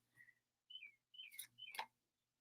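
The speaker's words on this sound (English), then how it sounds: "Do you hear the birds outside?" Spring birds outdoors give several distinct chirps and whistled tweets in short bursts, clear against a quiet background with a faint low hum.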